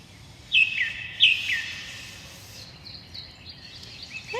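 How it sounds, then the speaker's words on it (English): A birdsong recording plays softly during an early childhood outdoor art lesson: a couple of sharp chirps stand out early, followed by scattered faint tweets and calls over a quiet hiss, with no talking. "I'm going to put on the sound of birds."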